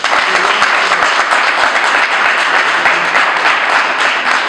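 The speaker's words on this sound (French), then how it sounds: "Est-ce qu'on peut acclamer pour cet homme?" A Congolese community audience in Johannesburg breaks into loud, dense applause for a man, with many hands clapping continuously at close range.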